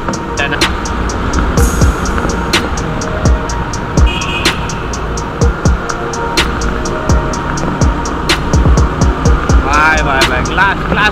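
A motorcycle engine hums steadily while riding on the highway out of Pune, with wind buffeting and recurring short clicks and knocks layered over the continuous drone.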